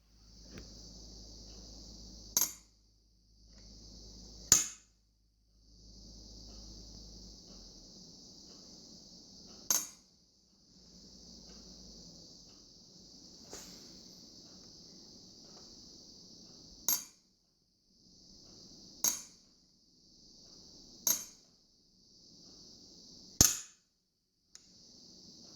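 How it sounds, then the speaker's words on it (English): The hinged firehole door on a silver-soldered copper live steam locomotive boiler is swung open and shut repeatedly, giving about nine sharp metallic clicks and clanks at irregular intervals over a faint steady hiss. "Here I put the firehole door through its paces."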